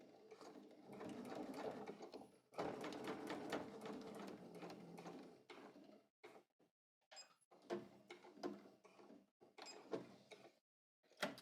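A sewing machine stitches a pant seam and reverses, running in steady rapid bursts with short pauses between runs, close and fairly quiet.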